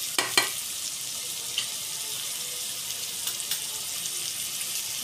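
Tomatoes and spices for dal tadka sauté in a pan, giving a soft continuous sizzle with a few faint clicks of stirring near the start and no talking.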